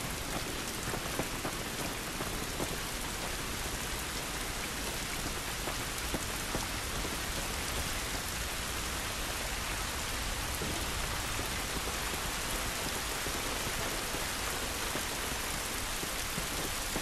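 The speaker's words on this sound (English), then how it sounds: "This rain ain't gonna do us any good." Rain falls steadily in The Last of Us, a dense, even hiss of drops on surfaces that stays constant throughout with no pauses.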